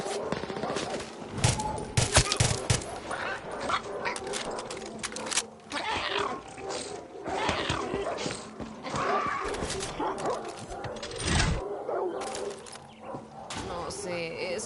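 Dogs bark and whimper in the Far Cry 6 video game, with repeated close, loud barking and yips amid gunfire-like bursts, and a voice talks over much of it.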